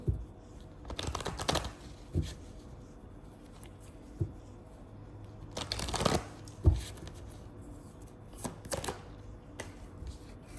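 Romance angel cards are shuffled in soft, papery bursts, several riffling flurries near and clear with quieter rustles between them and no talking.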